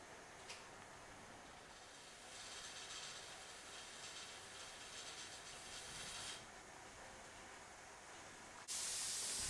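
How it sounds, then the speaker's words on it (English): Steam hisses quietly and steadily from the vent pipe of a Presto pressure canner loaded with sweet potatoes, swelling slightly midway before a sudden louder burst of hiss at the end. "We've got consistent steam coming out of the vent pipe, so we're going to let that vent steam for 10 minutes."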